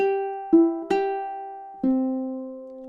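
A ukulele plays measure 18 of a Christmas song: four clearly plucked notes at a slow, uneven pace, each ringing on and slowly fading. The playing is close and alone.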